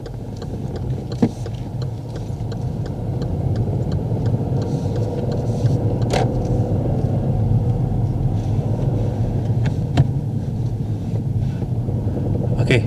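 A learner driver's car pulling away in first gear: a steady, close engine rumble that builds slightly and holds throughout, with a few faint clicks and knocks over it.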